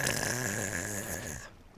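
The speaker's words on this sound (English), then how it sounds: "a few snores," Snoring from a character sleeping in bed in the game Minecraft: a steady, loud snore sound with a low rumbling rhythm, cutting off abruptly near the end.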